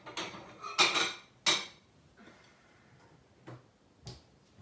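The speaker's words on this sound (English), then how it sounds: "So now we're going to get a plate." A few sharp ceramic clinks and knocks, like a plate being lifted from a stack, with quieter taps trailing off afterward.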